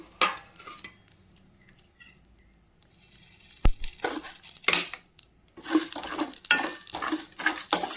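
Pepper, fennel, coriander and cumin dry roasting in a kadai: a quiet start, then bursts of a metal spoon scraping and stirring the rattling spices against the pan.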